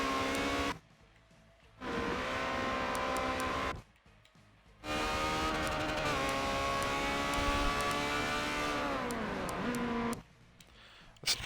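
Ferrari 360 Challenge Stradale race cars lapping Hockenheim, engines droning loud and steady with rising and falling pitch through gear changes and corners, broken by brief quieter gaps.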